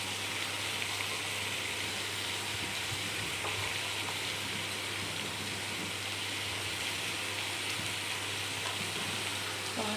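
Tomatoes sizzle steadily in a frying pan as salt is stirred in, a constant close hiss with faint scrapes of the spoon, no talking.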